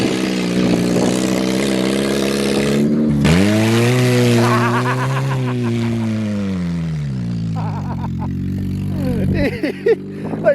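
Car engine revving and accelerating off-road with a rally Civic around, a loud rising and falling engine whine that dips briefly, then settles into a lower drone with some knocks near the end.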